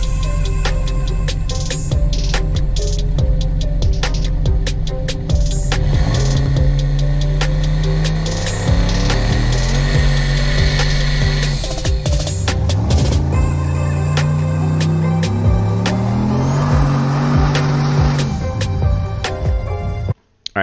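A turbocharged car running Holley EFI launches on a drag pass, engine note stepping up through rising revs and gear changes, loud and continuous with mechanical clatter and no speech over it.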